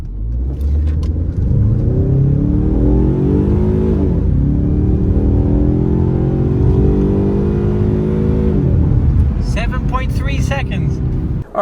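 A Ford Mustang EcoBoost in track mode launches hard from a standstill toward 60 mph. The engine note climbs loud and close through the gears, with shift breaks near four and eight and a half seconds, and brief sharp sounds near the end.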